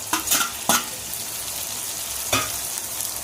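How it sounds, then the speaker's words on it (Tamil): Ginger and garlic sauté in a pan with a soft, steady sizzle, broken by a few sharp scrapes of a spoon stirring against the metal, close and without talk. "இஞ்சி பூண்டு வதங்கிடுது."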